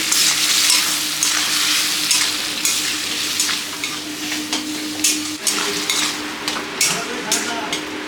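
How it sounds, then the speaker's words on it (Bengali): A paste of onion, green chilli, ginger and garlic lightly frying in a pan for a desi crab dish, with a steady hiss of sizzling and repeated scraping clatters of a spatula stirring against the pan. "এটা দিয়ে দেবো এখন এটা অল্প হালকা করে ভেজে নিই"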